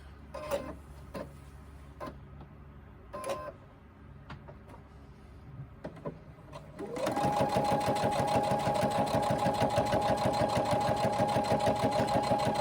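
Sewing machine stitching along the top edge of decorative trim on a crossbody bag, starting after some quiet handling clicks and then running steadily and loudly as a fast, even mechanical whir for several seconds.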